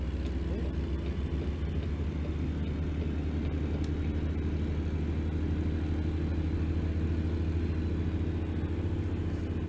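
A car drives along with a steady low engine rumble and road drone from inside the cabin, constant and moderately loud.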